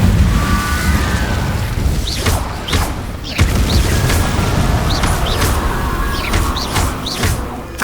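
Spell explosions from Incendio and Confringo in the Hogwarts Legacy video game, a string of booming bursts and whooshing blasts over continuous rumbling game ambience, loud and close.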